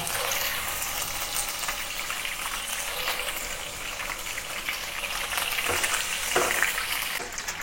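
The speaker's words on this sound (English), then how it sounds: "heat up about 2 tablespoons of oil to pan fry the tofu on both sides until both sides turns golden brown" Tofu pan frying in about two tablespoons of oil gives a steady, dense sizzle and crackle that runs without a break, with a few louder spatters near the end and no one speaking.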